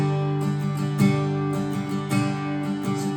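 Acoustic guitar strumming the bridge of Zach Bryan's "Starved" in a tutorial setting, sustained open chords with several clear strums rising over a ringing bed, played alone and close.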